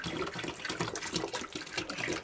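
Water pours steadily into a hanging hand-washing basin at a country dacha plot, a close, continuous splashing rush with no talk.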